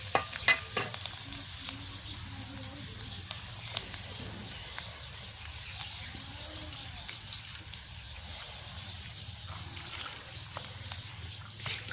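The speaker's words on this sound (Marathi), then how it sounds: "आता या ठिकाणी कापून ठेवलेली कोथिंबीर तीही फोडणीमध्ये घातली" Chopped coriander sizzles in tempering oil for a spicy pigeon-pea amti cooked over a wood fire, with a steady close crackle and scattered sharp pops and stirring scrapes, and no talk.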